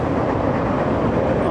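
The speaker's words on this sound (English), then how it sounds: "that's a train going by up there" A loud, steady rumbling roar fills the air as a train passes close by without pause, in Catskill.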